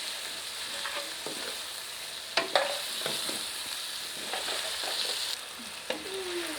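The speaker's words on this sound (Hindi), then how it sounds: "चिकन अच्छी तरह से भुन रहा है।" Chicken for a dhaba-style chicken karahi frying with turmeric and salt in a pan, a continuous close sizzle broken by a few sharp spoon clinks and scraping stirs, with no talk.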